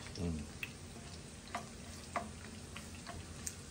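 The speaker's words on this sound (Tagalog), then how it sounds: "nagigisa na siya. Ano yan, ano, bawang sibuyas. bawang sibuyas, kamatis" Garlic, onion and tomato being sautéed in a pan, giving a faint steady sizzle with a few soft, isolated clicks of a utensil against the pan, close and quiet with no talking.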